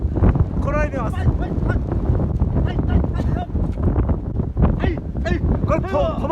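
Typhoon wind buffets the microphone in a continuous, loud roar with gusts, heard together with people talking.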